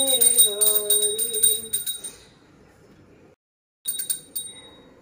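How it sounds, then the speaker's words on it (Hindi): A small temple bell rings rapidly during an evening aarti with orange lights and dhol nearby, bright metallic tinkling that fades, then resumes briefly after a pause, with faint singing beneath. "घंटी बजाओ पहले घंटी बजाओ।"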